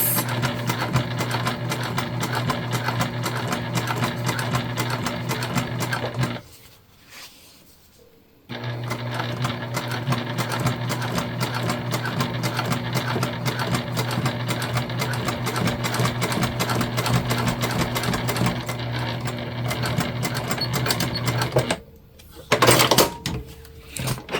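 Sewing machine top stitching thick vinyl panels for a highland cow pouch: a loud, close, steady motor hum with a rapid needle clatter that runs, stops briefly, runs again for a long stretch, then cuts off near the end.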